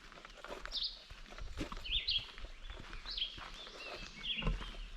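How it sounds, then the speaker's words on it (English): Several birds chirp and call intermittently along a forest trail among ferns and blooming laurel at the Quehanna Trail's Mineral Spring area, with short bright phrases over quiet background rustle and occasional footsteps. "you can see birds are chirping"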